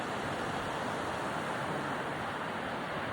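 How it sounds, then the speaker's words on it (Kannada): Sea waves wash onto the beach at Karwar as a steady, broad roar of surf with wind noise and no talking. "ಬಂತು ನೋಡ್ರಿ ಅಲೆ"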